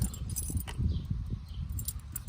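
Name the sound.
skeleton keys jangling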